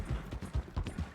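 A horse in a roleplay video game clops along in a quick, steady rhythm of hoofbeats, fairly close and moderately loud, with no clear whinny.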